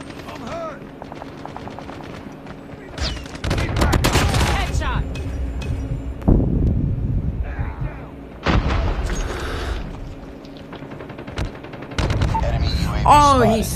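Gunfire in a shooter video game comes in several loud, close bursts of rapid shots separated by short pauses, with people talking between and over the shots.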